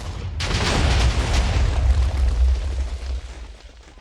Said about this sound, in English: So instead, what I'm going to do is use TNT to destroy you.